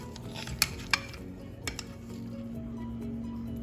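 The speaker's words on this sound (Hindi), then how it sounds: "अब ऐड करूंगी ये चॉम्प्स, इनको करूंगी मिक्स।" Mutton chops tumble into a pan for masala chops, with a few sharp metallic clinks and scrapes of a utensil early on, then a steady low hum and soft stirring, no talk.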